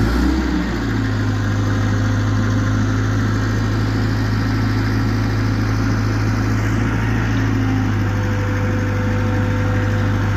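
A GEHL 6625DX skid steer loader's engine runs at a steady idle, a loud, close, low drone with a constant rumble throughout.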